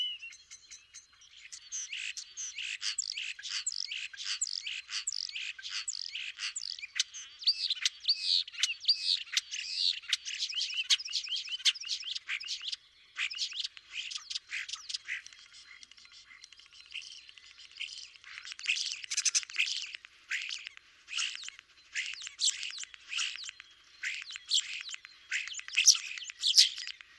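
A songbird sings a long run of rapid, high chirping and warbling phrases broken by brief pauses, fairly faint and alone with no voices.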